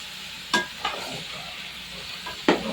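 Oil sizzles steadily in a tempering pan for chicken gravy curry, with a few sharp scraping stir strokes of a spoon against the pan, close and fairly quiet.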